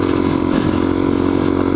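A dirt bike engine holds a steady, loud mid-range drone while riding through sand, close by and continuous for a short stretch.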